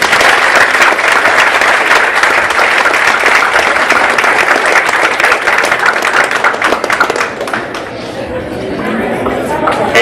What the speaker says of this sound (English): Mr. Gurrier, please give him a round of applause.